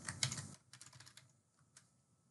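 Quick keystrokes on a computer keyboard, a dense burst of clicks in the first half second and then sparser, softer taps trailing off, close and alone with no talking.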